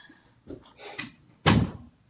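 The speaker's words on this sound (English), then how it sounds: "I'm gonna close the door." Indoor door being closed: a few soft shuffling bumps as it swings, then one solid thud as it shuts, close by.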